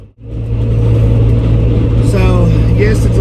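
Road noise inside the cabin of a Ford Bronco Badlands soft top at speed: a loud, steady low rumble and wind roar that holds throughout, with a voice talking over it.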